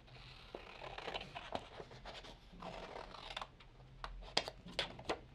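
Scissors snipping around a printed figure on a paper collage sheet, a quiet run of small crisp cuts and rustles close by, with sharper clicks near the end.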